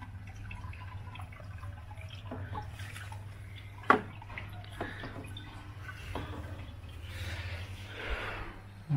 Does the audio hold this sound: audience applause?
no